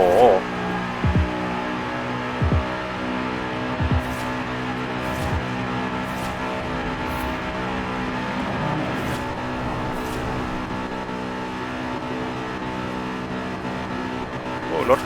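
An Aston Martin Vantage engine drones at a steady, high pitch in sixth gear in Forza Horizon 4, holding a smooth, sustained tone for the whole stretch while someone talks excitedly over it.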